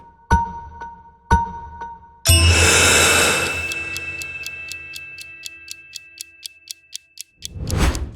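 A guided breathing session's chimes: two soft bell tones, then a loud struck bell that rings out and fades while rapid evenly spaced bleeps tick over the decay, followed by a rising breath-like swell at the end.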